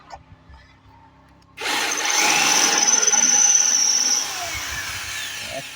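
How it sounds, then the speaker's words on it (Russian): A rotary hammer switched to drilling mode bores into wetted material while chimney mounts on a fireplace stove are reworked. It starts abruptly after a quiet moment, runs as a loud whining drone, then eases slightly before the end. "перфоратор переключил на сверление просто."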